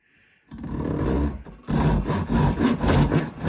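A pull saw with 9 teeth per inch rips through wood in long, loud rasping strokes close by, a sustained stroke followed by a brief pause and several rapid repeated strokes.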